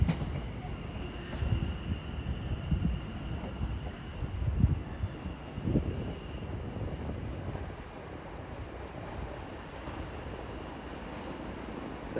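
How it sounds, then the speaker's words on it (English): London Northwestern Railway terminating service from Tring rolling into London Euston, a low rumble and clatter of carriages drawing in at a distance, with wind buffeting the microphone and faint station ambience. "As also incoming now will be a terminating London Northwestern"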